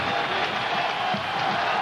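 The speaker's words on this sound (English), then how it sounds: "Boy, this crowd has really gotten noisy during the timeout." A college football stadium crowd at a 1999 South Carolina vs Georgia game roars steadily during a timeout, a dense, sustained wash of cheering voices heard from a distance with no break.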